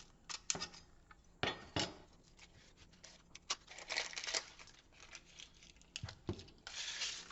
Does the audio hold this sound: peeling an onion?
yes